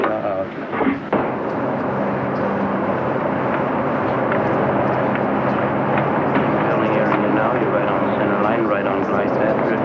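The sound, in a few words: airplane approaching the runway to land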